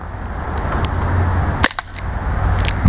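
A gas-powered airsoft replica gun fires a single sharp crack midway through, close and loud, with a short hiss of gas around the shot against a quiet indoor background.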